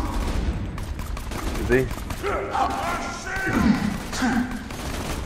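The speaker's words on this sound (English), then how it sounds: "This machine gun is so OP." Rapid machine gun fire in the Borderlands 2 multiplayer game, with dense bursts of shots and thuds running throughout, under overlapping player voices.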